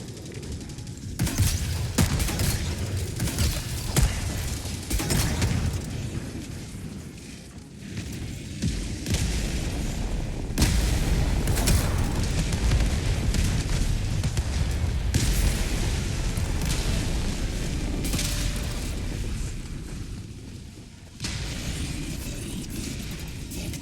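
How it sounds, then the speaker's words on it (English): Orbital barrage explosions in Helldivers 2 pound down in a long series of heavy booms mixed with rattling gunfire, loud and dense, with blasts landing close at irregular intervals. "Firing orbital barrage."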